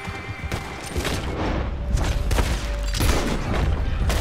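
Bursts of rapid gunfire and booms in Red Dead Redemption, continuous and loud, layered over each other with no clear talk.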